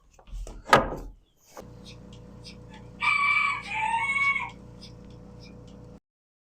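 On a farm with chores and milking underway, a hen clucks close by and then a rooster crows twice in long, loud calls over a steady low rumble, after a sharp door-like knock near the start.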